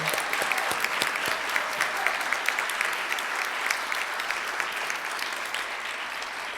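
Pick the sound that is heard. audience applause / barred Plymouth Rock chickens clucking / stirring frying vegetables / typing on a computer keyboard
audience applause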